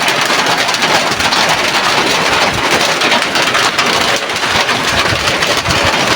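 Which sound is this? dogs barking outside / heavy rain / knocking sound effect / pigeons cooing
heavy rain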